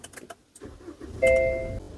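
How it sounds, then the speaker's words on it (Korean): Smart-key start of a SsangYong Rexton Sports pickup in clean condition with 34,150 km, heard from inside the cabin: clicks and key rattle, then a single loud ignition chime or start tone rising over a low engine hum. "제가 스마트 키를 활용해서 엔진 작동시켜 보도록 하겠습니다"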